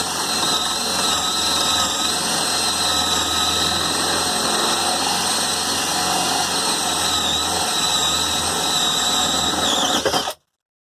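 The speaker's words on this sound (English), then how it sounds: "So it is on the drill setting. It is on speed 2" A Bosch drill running on its drill setting at speed 2 gives a loud, steady, high-pitched motor whine with a slight wavering pitch, lasting about ten seconds before cutting off abruptly.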